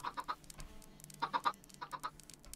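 Minecraft chickens clucking in short clustered bursts of three, a pause, then another quick run of clucks, fairly clear against a quiet game background.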